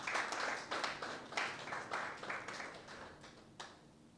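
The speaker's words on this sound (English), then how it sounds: "So a round of applause for that." An audience at an arts festival claps in a soft, scattered round of applause that holds steady and then thins out toward the end, heard from a distance.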